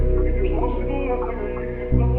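A percussion loop sample for a dark R&B beat plays under a sustained tonal layer, with a steady run of low, even ticks and a heavier hit near the end.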